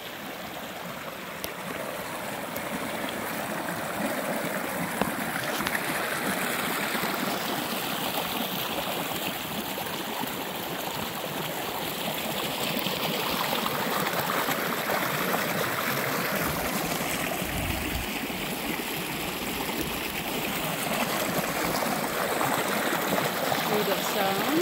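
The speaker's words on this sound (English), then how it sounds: "I love the hair of the sound of the water." Steady rushing of a mountain stream, a continuous broad wash of flowing water up close with no break in the sound.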